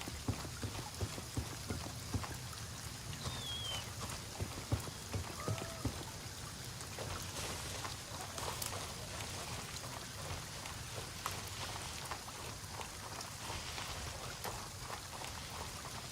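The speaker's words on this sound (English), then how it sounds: "one silver lining of it raining is it does make the enemies less likely to spot me" Steady video game rain falls throughout, a dense even hiss of patter and drips with no break and no voices.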